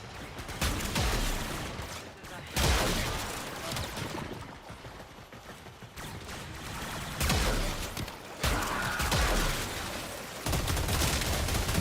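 Rapid pistol gunfire in the video game Warframe: dense, loud bursts of shots layered with game effects, firing in continuous stretches with brief lulls between volleys.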